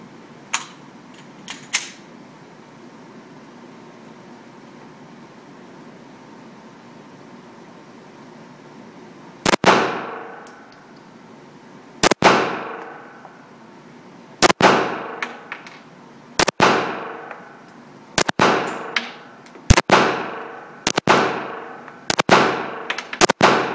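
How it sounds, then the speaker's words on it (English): Rapid handgun shots at an outdoor range after a quiet opening: about ten loud, sharp reports with ringing decays, spaced roughly two seconds apart and getting quicker toward the end, no speech. "I was just seeing how fast I could shoot."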